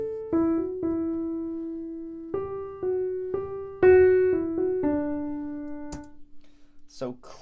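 A song's melody played as a clean synth line, with separate plucked notes in a short stepwise phrase, each decaying, followed by brief faint noises at the end.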